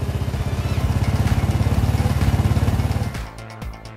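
Royal Enfield Bullet motorcycle with a cast iron engine thumps in a loud, steady, rapid rhythm close by for about three seconds, then drops to a quieter idle.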